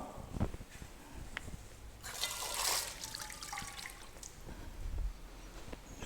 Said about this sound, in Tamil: இன்னும் கூட தண்ணி ஊற்றிக்கலாம்.